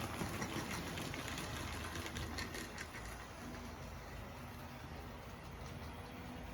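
Model locomotive motor bogie with a rewound X 410 armature, fitted to a late-1960s R.758 Hymek, runs continuously with a steady, close mechanical whir and hum and no talk.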